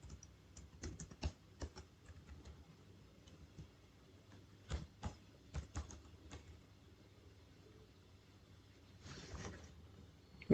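Computer keys tapped in short irregular bursts as a password is typed, close and fairly quiet, with pauses between clusters of clicks and no talking.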